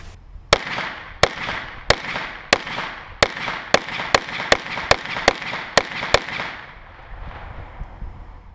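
A KelTec PMR 30 pistol fires 22 Magnum ballistic-tip rounds into a book, with about fourteen sharp, loud shots in a fairly steady rapid rhythm, then a quiet tail.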